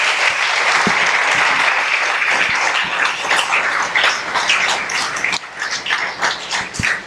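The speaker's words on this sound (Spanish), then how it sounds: "Bríndele otro fuerte aplauso al Señor." A church congregation gives the Lord a loud round of applause, a full, dense clapping that stays strong before thinning slightly toward the end, with a few sharper individual claps standing out.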